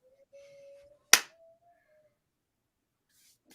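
One sharp, close hand clap as someone swats a gnat, a single loud smack that cuts through an otherwise quiet room with faint thin tones before and after.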